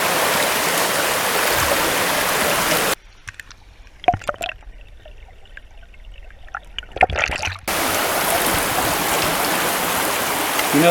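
Fast-flowing stream water rushing through a river during early-summer fly fishing. The loud, steady rush drops away mid-clip to a muffled, quieter stretch with a few knocks and splashes, then returns at full strength.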